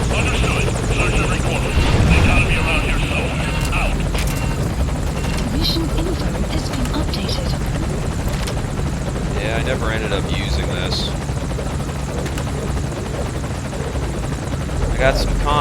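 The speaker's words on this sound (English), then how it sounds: "Target on the chopper." A helicopter flies in Metal Gear Solid V, its rotor thumping steadily and close throughout while game voices talk over it.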